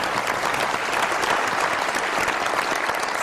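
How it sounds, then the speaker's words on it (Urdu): Studio audience applause at a Pakistani comedy show, a steady dense burst of many hands clapping close and loud throughout, with no talk over it. "بہت ساری تالیاں ان کے لیے سر"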